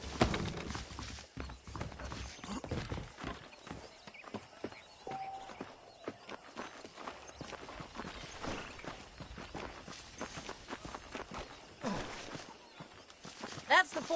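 Saddled horses in the video game Red Dead Redemption, their hooves clopping and shuffling steadily in the background while voices talk over them.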